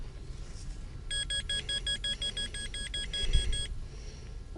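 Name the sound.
metal detector beeping on the beach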